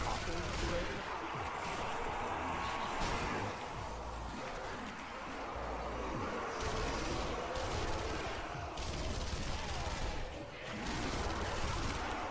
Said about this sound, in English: I'm pulling out the PPSH.